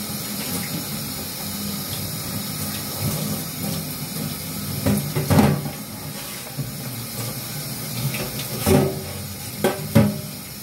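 Used utensils being washed at a kitchen sink under running water, a steady hissing stream with intermittent clatters and knocks of dishes, close and moderately loud.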